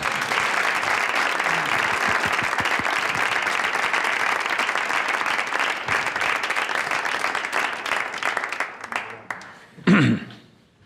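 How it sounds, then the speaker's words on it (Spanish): Applause for José Ángel after a talk to an audience of teachers: sustained, dense clapping from many hands that holds steady for about nine seconds, thins toward the end and stops, followed by a brief low thump. "Un aplauso a José Ángel."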